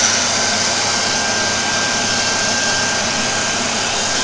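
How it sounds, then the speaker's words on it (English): A steady, loud whooshing roar of a hand dryer with a broken fan runs continuously, with a thin whine on top and a slightly rough, uneven fan tone. "That sounds like the fan is broken in there."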